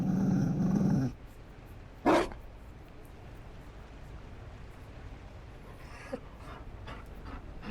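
A Mabari war dog in a video game growls and pants, with a rough growl opening the passage, a short sharp outburst after it, then quieter breathing over a steady background hum.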